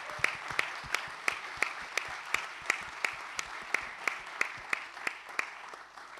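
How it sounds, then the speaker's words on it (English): A conference audience at the Adopting Bitcoin 2024 main stage in Arnhem claps in a steady, evenly spaced rhythm, crisp and moderately loud, with no talk over it. "Big round of applause for the team that brought this fantastic conference here."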